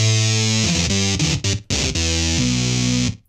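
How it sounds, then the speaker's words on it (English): A bright, sustained synth lead plays a short melodic phrase with a gritty, distorted guitar-like edge, loud and upfront with brief gaps between notes. "the kind of synth lead that it has, like the kind of distorted guitar sounds"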